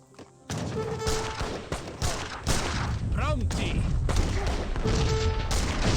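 Battle gunfire from Age of Empires 3, with Old Guard and rifle grenade launchers hitting Italian villagers: volleys of sharp shots and thuds crackle in bursts under continuous commentary.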